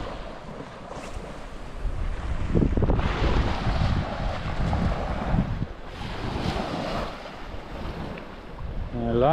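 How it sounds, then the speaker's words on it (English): Strong, relentless wind roars across the microphone on a boat at sea, with surf and waves washing steadily underneath for the whole stretch, loud and close. "that wind is just relentless"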